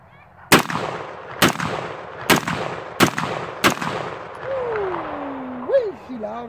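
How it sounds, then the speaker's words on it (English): Five loud, sharp gunshots from a handgun fired one at a time at roughly even intervals, followed by excited shouting and whooping. "I'm gonna just shoot a couple of shots"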